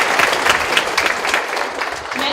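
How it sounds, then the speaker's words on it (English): Applause at a school board meeting for a fifth-grade student, a crowd clapping steadily and fairly close throughout. "So another round of applause for Trayon Artis."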